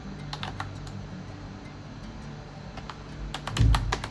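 A command is typed on a computer keyboard during a terminal setup. Close, uneven bursts of key clicks come in quick runs, and a soft thump follows near the end. No voices are heard.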